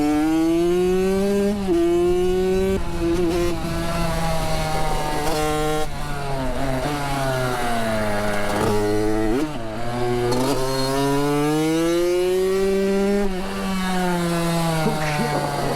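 Kawasaki KX65 dirt bike riding laps, its small two-stroke engine loud and close, revving up and down repeatedly as it accelerates and shifts, no talking.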